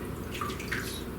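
Campbell's French onion soup is poured from a can over water in a pan, making a soft liquid gurgle with a few small splashes, faint and brief.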